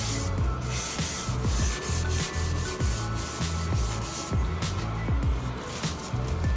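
Car body panels are lightly scuffed with abrasive scuffing pads, giving a close, steady rhythmic rubbing with repeated back-and-forth strokes and no talk over it.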